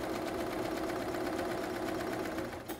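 A sewing machine runs continuously while understitching a facing about an eighth of an inch from the seam, a steady close mechanical hum with rapid needle chatter that slows and stops at the end.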